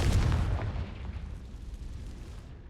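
Confringo spell explosion in the video game Hogwarts Legacy: a single deep boom opening at full force, then a rumbling blast tail that decays over about two seconds, with no talk over it.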